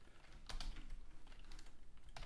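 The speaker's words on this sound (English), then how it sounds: "just by typing the name of your virtual environment and then a script and then active" Typing on a computer keyboard, a quick run of light key clicks with a few sharper taps, close and fairly quiet with no voice over it.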